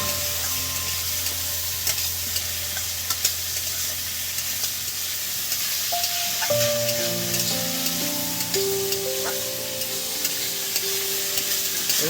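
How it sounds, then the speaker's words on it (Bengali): Diced potatoes coated in turmeric and salt fry in a pan with a dense, steady hiss and sizzle, with occasional stirring clatter and faint tonal kitchen noises under it, close and continuous. "কুচি কুচি করা যে হলুদ আর নুন মাখিয়ে রেখেছিলাম আলু, সেটা দিয়ে দিলাম।"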